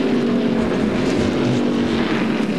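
Loud, continuous engine roar of NASCAR Winston Cup stock cars racing past on the oval at the 1999 Goody's Body Pain 500, the full field streaming by in a steady, unbroken wall of sound.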